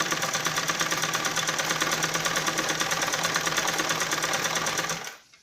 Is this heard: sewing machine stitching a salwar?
yes